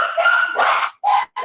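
An angry dog barks in loud, close, harsh bursts, three or four in quick succession with short gaps between them.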